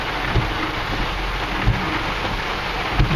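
Steady heavy rain pours down alone after a weather event, with low rumbles of thunder rolling in at intervals across the short stretch.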